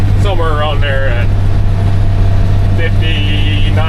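A truck's 350 Big Cam engine with an 8LL transmission drones steadily at about 1900 RPM while cruising near 59 mph, a loud low hum that runs the whole time beneath someone talking.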